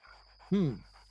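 Dogs outside a house at night give a single short, loud bark or yelp, heard at a distance with faint background hum before and after.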